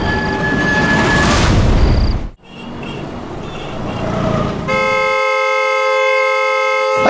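A loud horn blares continuously; after a brief dip, a steady multi-tone honk holds without pause to the end.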